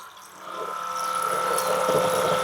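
Water pump switched on to fill a well pipe, a steady mechanical hum rising and settling with trickling water beneath, close and moderately loud.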